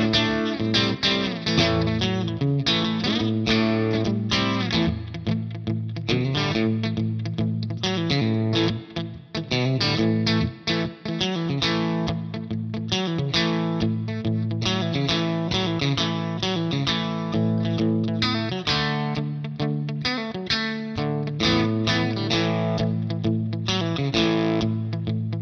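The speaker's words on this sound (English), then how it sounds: "when this is crunchy, it doesn't really get a lot of distortion, but it does kind of just add a little bit more grit" An electric guitar through a Choptones Suur Custom 100TP amp profile with a M75 Brit 4x12 cabinet plays continuous riffs and chords with a gritty, crunchy overdrive tone, loud and up front, no voices.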